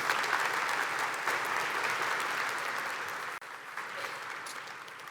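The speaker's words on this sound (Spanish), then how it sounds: "Por favor, los recibimos con un aplauso" Steady, dense applause rises from a summit audience welcoming speakers to the stage, holding at an even level throughout with a brief dip near the end.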